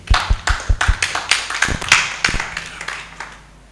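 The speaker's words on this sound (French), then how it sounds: "j'applaudis pour toi" An audience applauds at a conference, starting with sharp, separate claps that thicken into a steady round of applause and then slowly thin out.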